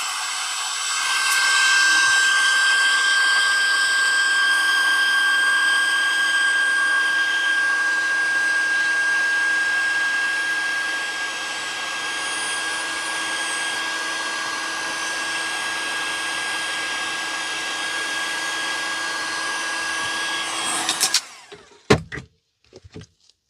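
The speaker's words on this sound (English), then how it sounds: "I'm going to use my heat gun and heat it up a little bit." Heat gun warming resin for a druzy craft piece, a steady whirring blower hiss running for about twenty seconds before switching off, followed by a few clicks and knocks.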